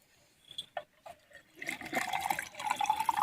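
A few soft knocks, then water begins running steadily from a tap fitted to a clay pot, pouring and splashing into a container at close range.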